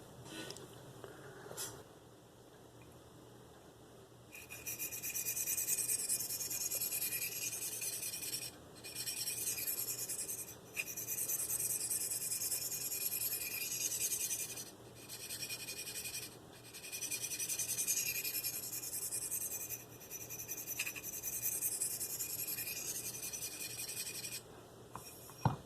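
A Marttiini Lynx knife blade drawn across a Spyderco medium sharpening stone, close and crisp rasping strokes in several bursts separated by short pauses, each burst a run of quick, repeated scrapes.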